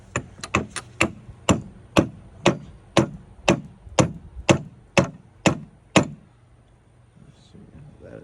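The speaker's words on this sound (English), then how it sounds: "Now I'm gonna put a socket on here so I can beat it off." Hammer blows on a socket driving out the crankshaft of a 2002 Yamaha YZ125 two-stroke: about thirteen sharp metallic strikes in a steady rhythm, close and loud, the first few quicker, then a brief pause with faint shuffling.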